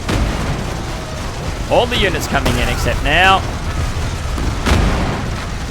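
Cannon fire in a war strategy video game, rolling booms and thuds throughout beneath someone talking over the battle.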